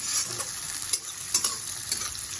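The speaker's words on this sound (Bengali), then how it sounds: "একটু হালকা ভাজা ভাজা হয়ে আসছে" Onion and a few green chillies frying in a pan, a close, steady sizzle with a few sharp clicks from stirring. No one talks.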